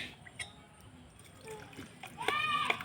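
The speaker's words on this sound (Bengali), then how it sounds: "এবার দেবো জল" Water poured into a spiced eggplant mixture of salt and chili powder for steamed mustard-poppy-seed eggplant, a soft close splashing trickle that builds louder in the final second.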